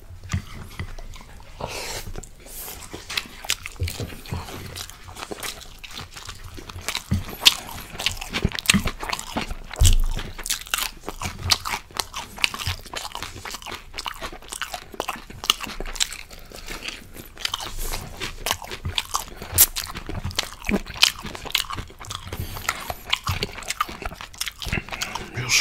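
Close, crisp biting and chewing of shrimp and rice, a steady stream of small crunches and wet mouth sounds over about half a minute, with no talk.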